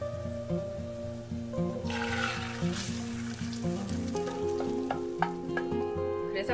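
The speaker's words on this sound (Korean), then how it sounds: "아까 미리 섞어둔 계란. 계란에 설탕, 소금이 다 들어있기 때문에 그냥 부으시면 돼요." Beaten eggs with sugar and salt sizzle and fry steadily in a pan, with occasional scraping and stirring noises over a constant background hum.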